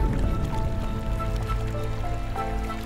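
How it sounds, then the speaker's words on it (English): Steady rushing river water fills the scene, a constant close roar of moving water with gurgling and splashing texture, in a river holding golden mahseer. "The sound of the river, the amount of water which is moving"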